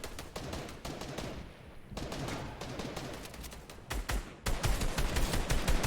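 Rapid automatic gunfire from a Fortnite trios playoff match, with dense bursts of close shots, brief pauses, then renewed heavy firing toward the end.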